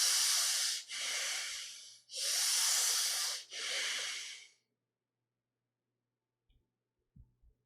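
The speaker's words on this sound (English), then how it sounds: "start breathing both from the belly and the rib cage." Slow, deep breathing from the belly and rib cage during a guided meditation: four long, airy breaths, close and clear, each in or out lasting about a second, followed by quiet with faint soft clicks.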